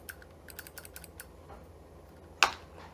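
An arcade button switch clicks in a quick run of light, close clicks, pauses, then gives one sharper, louder click, all quiet and without talk.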